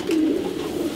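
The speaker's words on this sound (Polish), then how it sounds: "Teraz my przeszli do gołębnika samców" Pigeons coo steadily in a loft housing male racing pigeons, a close, continuous low burbling with soft swells and no talk.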